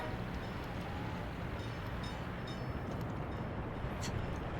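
Trains running in a transport-management video game, heard as a dense continuous rumbling roar of rolling rail cars with faint high clanks on top, steady and loud throughout with no pauses.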